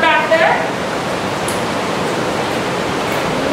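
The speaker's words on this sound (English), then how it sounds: "As you can hear, there is a bunch of rushing water back there." Rushing river water from a tiny waterfall inside Meramec Caverns roars steadily as a loud, broad wash that fills the whole stretch. A brief voice sounds at the start.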